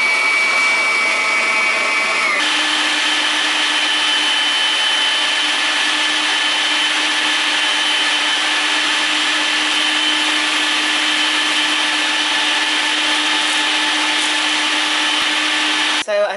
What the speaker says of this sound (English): I'm using that attachment. It's not even a KitchenAid.